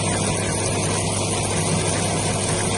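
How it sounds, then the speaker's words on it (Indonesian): The rollers of a 40 cm water-based gluing machine spin, giving a continuous, even mechanical hum and whir at close range, with no change in rhythm. "Lalu ini tadi untuk kita cek untuk rollernya, dia berputar."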